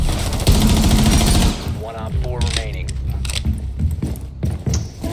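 Automatic gunfire shooting out cameras in Rainbow Six Siege, a loud close burst at the start followed by scattered shots and clatter, with people talking over it.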